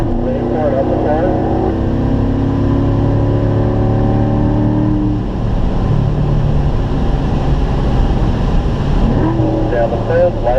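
Corvette at full throttle on the Spring Mountain race track, its loud steady engine drone holding near and continuous with rising harmonic sweeps, while an instructor talks over it throughout.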